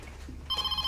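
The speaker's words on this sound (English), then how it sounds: "Aren't you going to answer that blooming phone?" An office telephone at a campus surgery rings with a short, bright electronic trill that starts halfway through and sounds close and clear.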